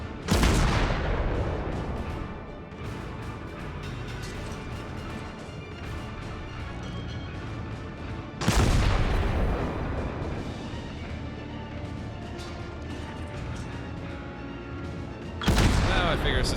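Guns on the Nuremburg cruiser in the video game World of Warships fire high explosive shells in heavy salvos: three loud booming volleys spaced several seconds apart, with a rumbling battle bed and talking between them.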